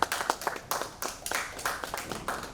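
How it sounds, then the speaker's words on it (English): Scattered clapping from an audience at an HR conference event, a few pairs of hands producing sparse, uneven claps over a couple of seconds, fairly faint with no talk. "I wish you could give them a round of applause at home"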